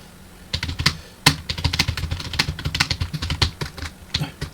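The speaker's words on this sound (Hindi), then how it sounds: "यहाँ पर मैं टाइपिंग करूँगा, गलतियाँ भी कर दूँगा थोड़ी बहुत" Fast, continuous typing on a computer keyboard fills the clip with dense, close clicking and clacking. The keystrokes come in quick bursts, and one heavier key strike lands near the start.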